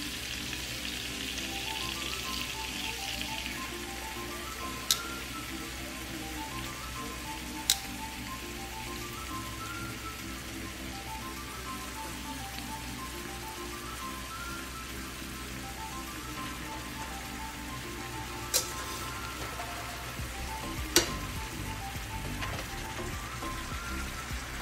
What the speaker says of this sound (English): I've turned off my heat and I am going to add the noodles into the pan.